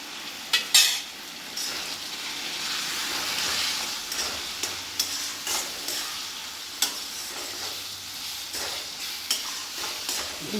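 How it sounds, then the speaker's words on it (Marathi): Moong dal being dry-roasted and stirred in a pan until golden for halwa, a steady soft sizzle with occasional scraping clinks of the spoon, close and continuous, no voices. "डाळ पूर्ण तांबूस होईपर्यंत आपल्याला भाजून घ्यायची आहे, छान खमंग होईपर्यंत"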